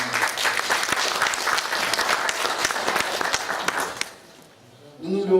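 Audience applause at the CRPC 2015 closing ceremony, a dense, steady clapping crowd for about four seconds that fades out, followed by a voice starting to speak.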